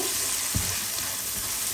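Onion and ginger-garlic paste frying in leftover oil in a pan after frying brinjal, a loud continuous close sizzle with a couple of soft stirring knocks.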